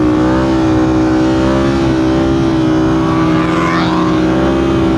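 A Suzuki GSX-R 1000 motorcycle engine revving hard during a wheelie, a loud, sustained, close engine roar with pitch holding high and shifting slightly, no talk over it.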